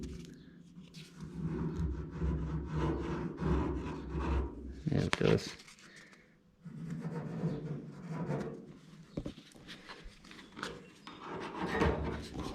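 Irregular scraping and rasping strokes sanding body filler on a vehicle roof, moderately close, with a few louder knocks, and a voice speaking briefly partway through.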